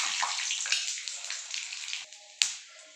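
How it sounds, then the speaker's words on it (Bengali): Panch phoron, bay leaf and dried chili sizzle in hot oil, giving a steady close-up hiss with crackles and small pops that gradually settles. "তেল গরম হয়ে গেছে, 5 ফোড়ন, তেজপাতা আর শুকনো লঙ্কা"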